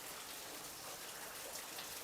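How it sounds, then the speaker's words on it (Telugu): Heavy rain pours down in Hyderabad, a dense, even hiss of drops on surfaces, faint and steady throughout with no voices. "వాన మాత్రం బీభత్సంగా పడింది ఫ్రెండ్స్."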